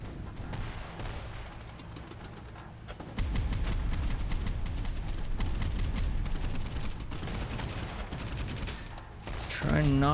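Mortar and gunfire barrage in the naval combat game Boat Crew, dense rapid booms and crackling shots layered over one another, loud and continuous.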